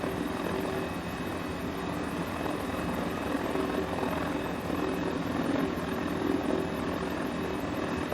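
Steady rotor and engine drone of a Mini 500 helicopter cruising along a coastline in Microsoft Flight Simulator, a continuous even whir at constant loudness with no talk.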